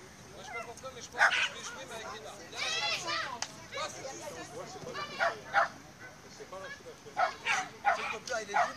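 A dog barks in short bursts at an outdoor show-jumping event, fairly faint and spread through the clip, with people talking around it.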